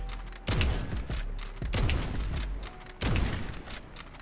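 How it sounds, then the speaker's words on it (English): Three sharp, booming AX50 sniper rifle shots ring out roughly a second apart in the Modern Warfare video game, each followed by a rattling bolt-cycling echo. "here's me actually doing the AX50 like fast shooting method"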